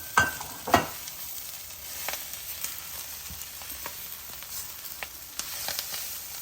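Drumstick leaves fry in a pan with a steady close sizzle, broken by a few sharp scraping stirs near the start and light clinks of a spoon later on.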